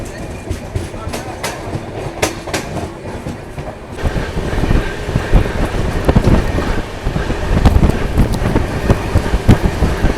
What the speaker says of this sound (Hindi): ट्रेन देखो दोस्तों अभी क्या रफ्तार में चल रही है, 1 नंबर रफ्तार में।